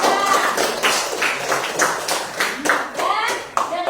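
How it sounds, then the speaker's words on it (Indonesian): A group of schoolchildren claps in a quick, uneven patter for a classmate in a classroom, the claps loud and close for a few seconds with voices mixed in. "Tepuk tangan untuk Mirza."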